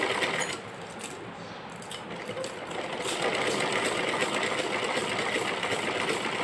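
A sewing machine runs continuously up close, stitching thread onto a kachli with a steady mechanical whir and no talking.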